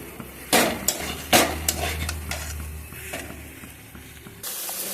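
Rajma curry masala sizzles in a pan while a spoon clanks and scrapes against the metal in irregular sharp knocks over a low steady frying hiss.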